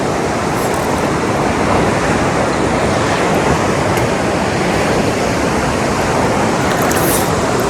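Steady, loud rushing water fills the whole stretch, a dense continuous roar like a fast-flowing river close by, with no voices.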